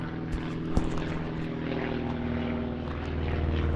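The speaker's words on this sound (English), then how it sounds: "Got a plane flying up there." A propeller airplane drones overhead in the open air above a rural cabin build site, a steady, moderately distant engine hum with no talk.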